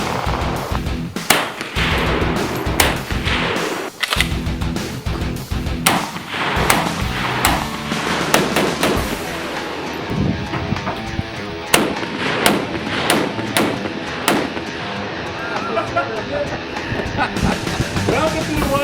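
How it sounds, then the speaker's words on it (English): SKS rifles fire in rapid irregular bursts of sharp loud cracks, overlapping shots from several guns, with brief voices between volleys. "What's the audio like when there's gunfire like that?"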